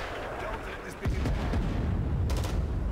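Friendly gunfire in the Rising Storm 2 war game: a sudden loud burst of shots about a second in, then a rumbling run of further fire and booming echoes, with gameplay voices mixed underneath.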